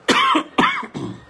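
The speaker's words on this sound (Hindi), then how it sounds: "जब भी मैं थोड़ा लंबा बोलता हूँ, ज्यादा बोलता हूँ तो खांसी आती है" Three harsh coughs from a man, close and loud, each burst sharp at the start then trailing off, with short gaps between them and no talking.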